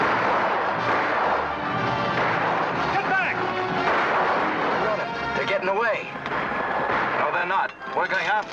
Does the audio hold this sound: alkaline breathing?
no